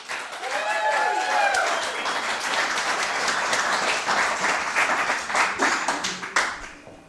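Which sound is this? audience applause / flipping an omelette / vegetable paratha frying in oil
audience applause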